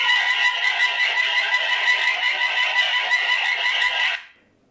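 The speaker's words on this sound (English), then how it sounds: "You can trigger the siren alarm." A Nooie outdoor 1080p security camera's siren alarm sounds loud and close, a harsh continuous pulsing wail that holds steady for about four seconds and then cuts off abruptly into silence.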